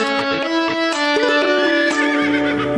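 A horse whinnies in a Hindi children's nursery rhyme about a wooden stick and a horse, the neigh blending with the sung music and playing through a short, fairly loud stretch.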